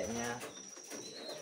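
A brooding racing pigeon coos softly nearby, a low rolling murmur with faint chirps and background noise around it.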